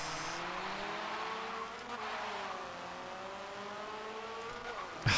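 A car spins out in Forza Motorsport 7, its game engine whining as the revs sweep up and down over a few seconds before ending in a sudden louder burst.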